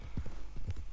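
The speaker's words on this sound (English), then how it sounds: "This is literally the Arabian horse. The black Arabian." A black Arabian horse in Red Dead Redemption 2 trots along with crisp, close clip-clopping hooves, a quick rhythmic run of hoof strikes over about a second, with no voices.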